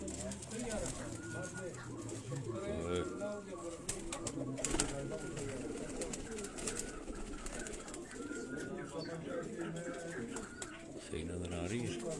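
White Tunia breed pigeons coo softly in a loft, repeated low throaty calls under someone talking close by.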